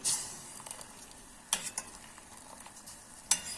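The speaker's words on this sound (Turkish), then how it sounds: "Vanilya şekerimi ekledim. Ve şimdi karıştıracağım arkadaşlar." Vanilla sugar being stirred into a sweet mixture for brownie cookies, a soft continuous sizzling hiss with a few sharp spoon scrapes against the pot; no talking.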